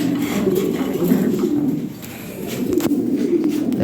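Fancy Lahore pigeons, a club-tagged foreign line, coo close by in a low, continuous, throbbing murmur that dips briefly midway, with no speech.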